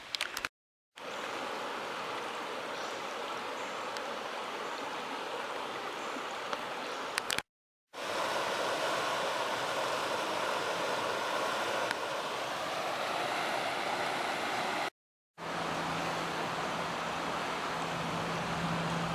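Broadband rushing of a creek beside a forest hiking trail on the Mason Dixon Trail, heard from high above the water as a steady distant wash, broken by brief cuts to silence.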